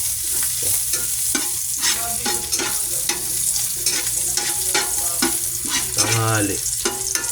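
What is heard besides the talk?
frying garlic fried rice in a pan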